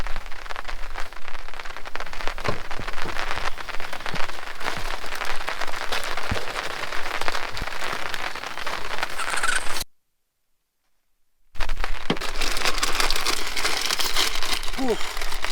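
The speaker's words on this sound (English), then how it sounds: "She decided to rain a little bit." Light rain pattering on a truck camping setup, a dense crackling patter of drops on a nearby surface that runs steadily throughout with a short gap partway through.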